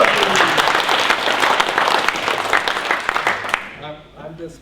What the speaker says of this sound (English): I think you should get a round of applause.